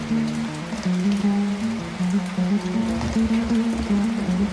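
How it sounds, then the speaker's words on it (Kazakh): Rain falls steadily in a continuous patter, with a low sustained tone running underneath throughout. "Қарап тұрған күннің көзі жабылып, тағы да жаңбыр жауады."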